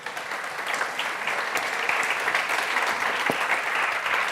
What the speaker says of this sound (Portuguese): Dá uma forte salva de palmas ao Senhor.